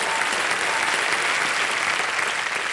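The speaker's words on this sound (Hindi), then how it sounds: "तालियां बज जाए उनके लिए।" A television quiz show's studio audience claps for a contestant's companions, giving dense, sustained applause from a full crowd with no break.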